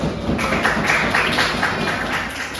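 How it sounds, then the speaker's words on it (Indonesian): Students in a classroom clap together in a brief, moderately loud burst of applause, with rhythmic clustered claps and no talking. "Tepuk tangan lagi."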